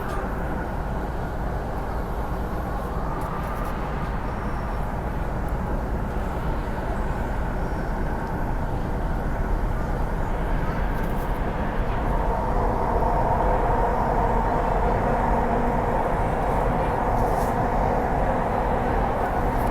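Steady rumble and hum inside an MTR East Rail Line R-Train carriage running between Hung Hom and Admiralty in Hong Kong, constant wheel and motor noise throughout, with no talking.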